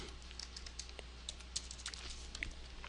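Typing on a computer keyboard while following a guide to remove Security Shield 2011 malware, a quiet run of light, irregular key clicks close by with no talk.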